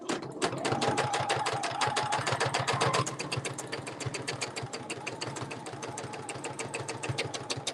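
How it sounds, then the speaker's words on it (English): A sewing machine stitches along a quilting template in a fast, even, close rhythm. It pauses briefly around the middle, then resumes stitching at a slightly softer level. "stop needle down, slide the template forward, and stitch it again"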